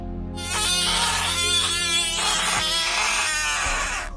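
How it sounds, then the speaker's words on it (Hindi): A Budgett's frog calling loudly, a harsh, buzzing, wailing cry in several pulsing bursts that runs almost continuously for about four seconds, close and alone. "और इस मेंढक को बजस्ट फ्रॉग कहते हैं।"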